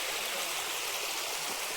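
First-rain water pours into a pond by a river in the Konkan countryside, making a continuous, even rushing and splashing sound with no voices.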